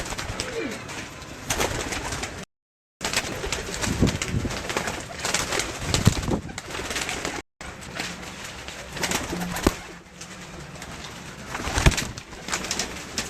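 Pigeons kept by a breeder in Lahore coo repeatedly at close range, soft throaty calls recurring throughout amid rustling, with two brief gaps of silence.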